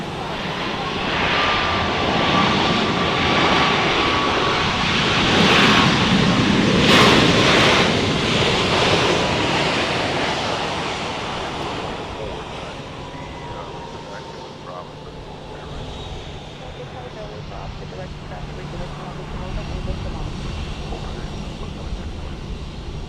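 A Boeing 737 MAX 8 jet airliner landing at Dallas Love Field, its loud engine roar swelling and whining up close, then fading into a steadier distant rumble with wind noise and faint radio talk underneath.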